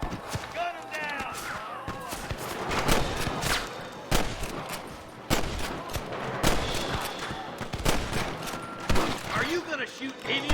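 Gunfire from a Red Dead Redemption shootout with cattle rustlers, repeated loud shots and bursts spread through the scene, mixed with hoofbeats, game music and shouted voices talking over the action.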